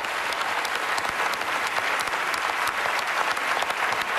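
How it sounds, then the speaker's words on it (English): Studio audience applause on a TV talent show, a dense steady wash of many hands clapping, loud and continuous throughout with no talk over it. "Give her a big round of applause as we send you off"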